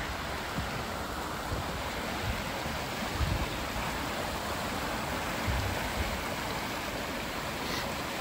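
Conneaut Creek, a wild and scenic river in Ohio, flows with a steady, broad rushing wash that stays even and unbroken, close and continuous, with no voices.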